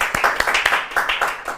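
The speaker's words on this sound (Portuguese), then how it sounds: "Palmas para vocês" A large teaching-event crowd of about ten thousand people claps together, a dense wash of hand claps with sharper accents rising and falling, fairly loud and sustained throughout.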